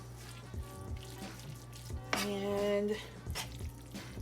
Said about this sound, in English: Add a touch more water.